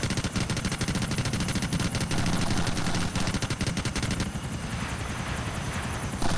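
Helicopter rotor chopping continuously under rattling machine-gun fire in the video game GTA IV multiplayer, dense and loud throughout, the gunfire bursts thinning out toward the end.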